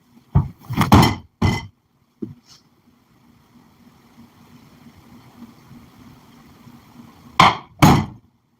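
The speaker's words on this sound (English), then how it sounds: "That was the sound of Rev punching a wall" Fist punching a wall, a cluster of heavy close thuds at the start, a lone knock, a quiet stretch, then two more loud thumps near the end.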